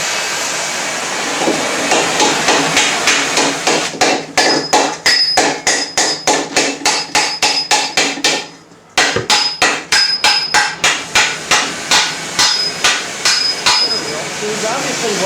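A sallet helmet is raised from steel with rapid, loud, ringing hammer blows close by, a steady metallic rhythm with one brief pause midway before the strikes resume.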